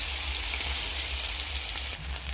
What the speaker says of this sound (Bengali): আমি পেঁয়াজটা লাল লাল করে ভেজে নেব।